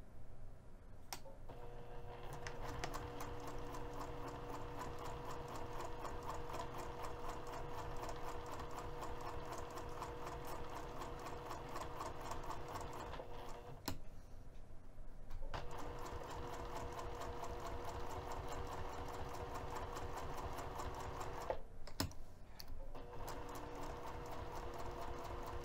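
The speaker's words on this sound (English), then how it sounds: "I'm also going to sew a second line of stitching, this time a quarter of an inch away from the edge of the fabric" A sewing machine runs a second line of stitching on a cork or leather luggage tag, with a steady rapid mechanical rattle that continues close by for most of the stretch and pauses briefly twice.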